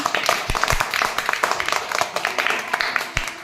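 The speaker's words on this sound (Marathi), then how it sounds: "टाळ्या वाजवर त्याच्यासाठी." Children in a classroom clapping for a student, scattered uneven claps spread throughout, with voices in the room.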